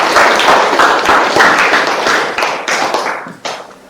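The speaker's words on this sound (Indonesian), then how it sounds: "kasih tepuk tangan." An audience in a classroom or hall claps together in a burst of applause that stays steady for about three seconds, then thins out into a few scattered final claps.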